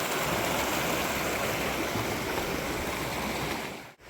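A babbling brook near Nambe Falls, New Mexico, flows with a dense, steady rush of water heard up close, continuous until a brief dip right at the end.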